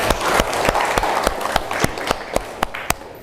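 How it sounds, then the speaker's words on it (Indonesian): A class applauds a student group after its presentation, with a burst of many hands that thins into a handful of sharp, separate claps tapering off toward the end. "Tepuk tangan untuk kelompok 4"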